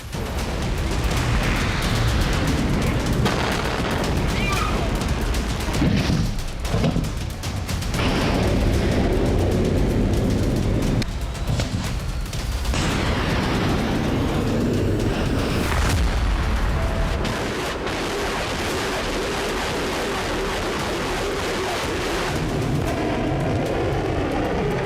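Heavy weapon fire and artillery blasts boom repeatedly, loud and close, layered into a continuous rumbling roar with sharper bursts scattered throughout.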